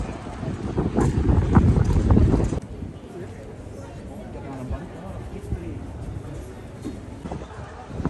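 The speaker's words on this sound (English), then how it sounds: "There is wind." Gusty wind buffets the microphone outdoors on a city street in Brussels, a loud rumbling roar for the first couple of seconds, then dropping to a lighter, steadier rush with faint background sounds.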